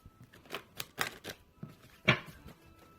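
Romance Angels oracle cards are shuffled by hand, giving a quick series of soft, crisp riffling taps close up with no talking.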